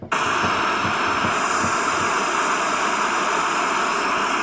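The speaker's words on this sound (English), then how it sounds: "This is a 10-hour video of white noise" Steady, loud broadband white noise played from a YouTube video. It starts abruptly after a brief moment and then runs unchanged and hissing to the end.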